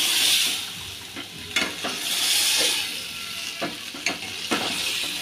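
Poa fish with spices fries and is stirred in a pan, a steady close sizzle broken by several scraping strokes of the spoon, with no talking.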